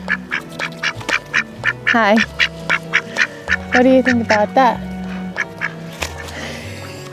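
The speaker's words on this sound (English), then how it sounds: "The ducks are so cute." Ducks quack in lively bursts close by, mixed with rhythmic tapping, while a person speaks briefly.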